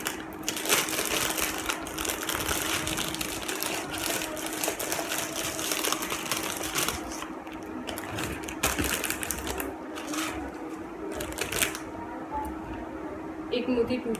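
A jewellery packaging box holding earrings and a maang tikka is opened with a long run of close crinkling, rustling and crushing, while a person talks over it.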